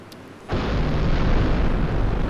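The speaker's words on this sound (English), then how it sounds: "Let me show you this short video of a 15-pound package bomb." A 15-pound package bomb goes off in a live-fire demonstration: a sudden loud blast after a brief quiet moment, then a long, heavy roaring rumble that holds on with no voices.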